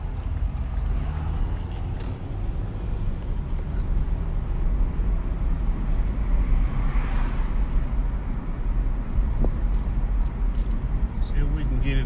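A 2012 Ford Fusion SE on a test drive, heard from inside the cabin as a steady low road rumble and engine drone under the wind noise, with someone talking over it.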